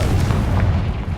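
A Confringo fire spell bursts in Hogwarts Legacy, a loud, dense blast with a heavy low rumble held steady for the whole moment, with no talk over it.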